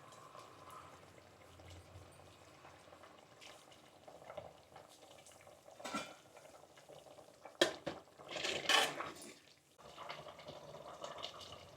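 Chettinad chicken gravy bubbling in separated oil in a pan, a faint soft simmer with a few quiet stirring scrapes and clinks, louder bursts of activity near the end.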